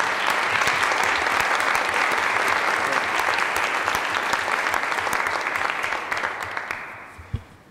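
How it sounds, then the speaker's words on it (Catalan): A conference audience at a Catalan municipal event claps in sustained, dense applause for several seconds, then thins and dies away near the end. "podem aplaudir."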